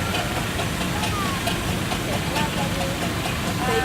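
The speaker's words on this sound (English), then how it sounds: "we have a black Fowler traction engine" A black 1908 Fowler steam traction engine runs at a steam rally, its steady mechanical chug and hiss continuing under a loudspeaker commentator's voice.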